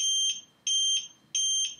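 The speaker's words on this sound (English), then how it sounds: "Remain with the unit in the air until the beeping stops" Three loud, evenly spaced electronic beeps from a G2 unit held in the air during recalibration, each a shrill tone lasting about a quarter second, with short quiet gaps between them.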